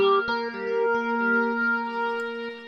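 Sustained synthesizer chords in FL Studio Mobile with a lush, echoing reverb tail, notes overlapping and ringing out smoothly.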